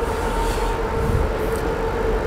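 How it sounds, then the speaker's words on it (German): An S-Bahn class 485 train pulls into a station in a rail-building game, giving a steady loud rumbling roll with a faint tonal hum throughout, no voices. "Im Hintergrund fährt ein S-Bahn-Zug der Baureihe 485 natürlich gerade in den"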